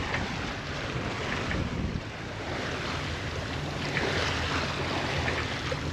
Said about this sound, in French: Et voilà les loulous, rien qu'à la voile.